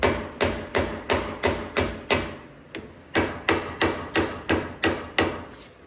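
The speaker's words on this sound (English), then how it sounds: "And then I use a regular size mallet, metal mallet." A metal mallet hammers on a 2023 Ford Raptor suspension part during a lift install, a dozen loud, ringing blows at a steady beat with one brief pause, close and alone.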